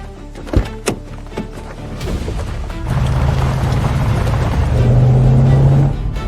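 A car drives through a deserted, post-apocalyptic city in The Last Empress, a couple of sharp thunks up front giving way to a steady engine drone that holds to the end.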